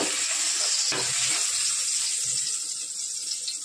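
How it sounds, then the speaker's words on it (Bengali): Pointed gourd (potol) slices fry in hot oil in a home kitchen, giving a steady broad sizzle with a soft clink near one second and light stirring scrapes, no voices. "পটল ভাজার জন্য আমি তেল দিচ্ছি"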